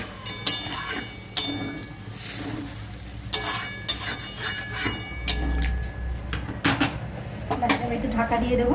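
Metal lid clattering onto a cooking pot of vegetarian curry with potato and poppy seed, several sharp clinks and knocks among utensil scrapes, close by over a low background hiss.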